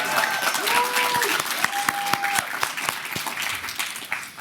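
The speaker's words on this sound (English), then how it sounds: "That truly deserves another round of applause." Audience applause at a leadership academy graduation ceremony, steady dense clapping throughout with a few faint voices and whistles mixed in, tapering slightly near the end.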